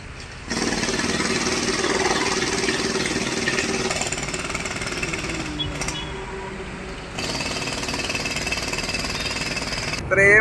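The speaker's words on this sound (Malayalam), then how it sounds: "ഭാഗമുള്ള പാറ ഇങ്ങനെ കട്ട് ചെയ്ത് കൊണ്ടിരിക്കുകയാണ്" A Korean rock-cutting machine breaks rock at NH66 highway road works, making loud, continuous rapid hammering with an engine drone underneath. The hammering briefly dips around the middle and again near the end.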